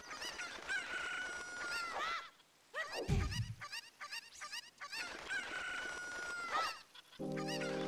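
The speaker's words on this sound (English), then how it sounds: "I'm trying to save the chicken." Chickens in The Legend of Zelda: Ocarina of Time cluck and squawk in loud, repeated bursts, with a crowing call that rises and falls, then a brief lull and another run of cackling.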